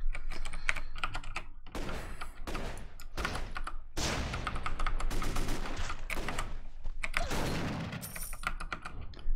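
Rapid, loud bursts of shotgun fire from the flag shot skill of a pirate class in the video game AdventureQuest 3D, crackling repeatedly over about nine seconds with dense overlapping blasts and no talking.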